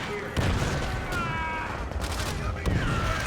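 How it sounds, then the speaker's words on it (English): Gunfire in the Call of Duty: World at War campaign at Veteran difficulty, battle noise with repeated rifle shots and distant booms forming a dense, continuous firefight. "I prioritize shooting enemies on top of the bunker, like that guy right there."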